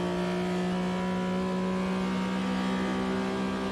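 Porsche RSR race car engine in Automobilista 2, a steady loud droning hum with strong tonal harmonics, holding at a constant pitch throughout with no voices.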